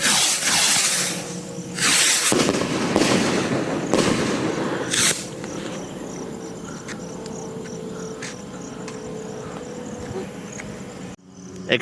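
Loud firecracker bangs and a crackling Quitis burst go off in the first few seconds, followed by fainter sharp pops and a steady buzzing hiss of whistle fireworks trailing off into the distance.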